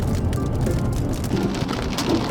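Heavy hail and rain pound steadily on a vehicle during a Great Plains storm chase, a dense, continuous roar of impacts with no voices.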